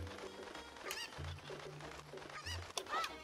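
Cartoonish clucks and squawks from a chicken in Zelda: Ocarina of Time, several short repeated bursts over game music and background noise.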